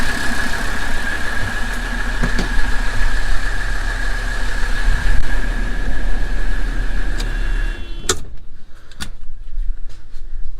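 The engine of a Mercedes 300SD idles steadily and loudly up close with a rough mechanical drone and a faint whine, then cuts out abruptly near the end, leaving a few clicks.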